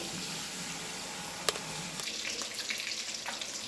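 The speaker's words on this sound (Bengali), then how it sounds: "মাছটাকে আগে লাল লাল করে ভেজে তুলে মাছগুলিকে আমি লাল করে ভেজে নিয়েছি" Katla fish fries in hot oil with a continuous crackling sizzle, steady and fairly close, with a brief clink partway through and no talk.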